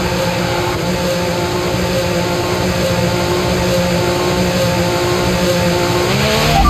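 F1 race car engine screaming at high revs in F1 25, a loud continuous whine with rising harmonic tones as it accelerates, close and unbroken.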